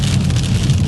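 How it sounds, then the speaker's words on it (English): Heavy rain drums steadily on a car while driving, a dense, loud wash of droplets with a low rumble beneath, continuous and close with no breaks. "Oh, so much rain on the road."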